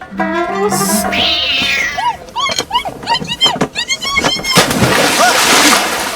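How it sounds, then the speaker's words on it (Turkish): A cat meows repeatedly in close, loud, rising calls, with people talking and other noise around it in a comedy film scene. "Ne diye kışkırtıyorsun kediyi?"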